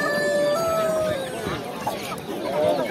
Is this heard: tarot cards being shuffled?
no